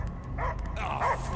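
Cosmo the dog in the Guardians of the Galaxy video game gives a couple of short, muffled barks and yips over a low rumbling game backdrop.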